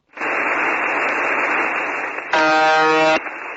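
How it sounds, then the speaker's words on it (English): A continuous buzzer tone from a legacy Russian military device, a steady loud harsh drone that briefly shifts into a brighter, more tonal buzz before settling back, with no voices. "Sometimes the buzzer stops and a male, robotic-like voice lists names and numbers in Russian."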